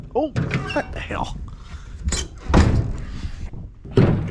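The door of a work vehicle is slammed shut, giving a few heavy thunks close by while someone talks around them.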